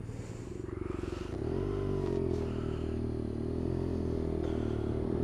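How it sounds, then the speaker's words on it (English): A BMW RnineT Racer motorcycle engine roars loud and close, a steady rumbling drone that swells as the revs climb past the first second and then holds strong, with brief rising revs partway through. "this bike has no manners whatsoever. It's very loud, very obnoxious, in the best possible way, of course."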